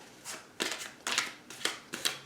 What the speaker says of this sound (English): I'm just going to give them a quick shuffle as well on camera